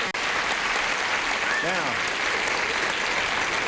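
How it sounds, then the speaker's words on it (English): Studio audience on a 1970s TV game show applauds steadily and loudly, the clapping filling the whole stretch while a host's voice speaks briefly over it. "A polite round of applause for the newies there."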